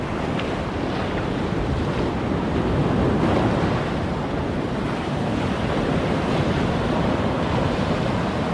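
Ocean surf at a Long Bay seaside, heard from knee-deep water while wading: a steady, loud wash of breaking waves and churning water with wind buffeting the microphone throughout, no voices.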